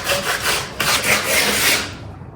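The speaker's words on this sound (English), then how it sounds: "We've got it sanded off and smoothed off." Sandpaper rubs back and forth over the rough wood of a pallet Christmas tree in loud, close, rasping strokes, then stops abruptly near the end.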